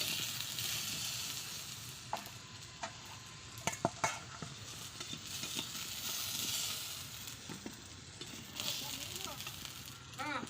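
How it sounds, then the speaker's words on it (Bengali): Potatoes sizzle in hot oil in a kadai as they are slowly lifted out, a steady close crackle with a few light scraping clicks from the utensil while a person talks over it. "এই আলুগুলোকে আস্তে আস্তে করে তুলে নিচ্ছি"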